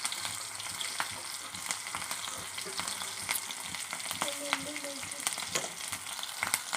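Cumin seeds and green chillies crackle and sizzle in hot oil for a Telangana gongura tempering, a steady close frying hiss broken by sharp pops and spits, with no talk.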